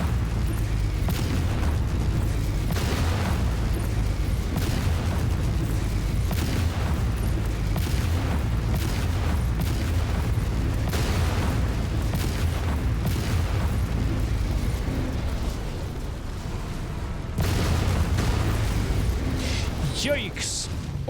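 Explosions from destroying a base in MechWarrior 5: a steady stream of booming blasts and rumbling bursts over mechanical noise, dense and continuous throughout, with someone talking over the explosions.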